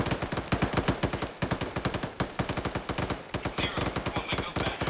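Gunfire in Squad, dense automatic bursts rattling off in rapid rhythmic volleys, loud and close, with brief pauses between strings of shots.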